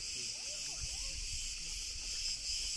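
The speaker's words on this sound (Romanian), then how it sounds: "A, cicadele își fac de cap aici." Cicadas on a high hillside at Eleftherna in the Rethymno region of Crete, a dense continuous buzzing drone filling the air at steady volume, with faint low background noise beneath and no pause across the stretch.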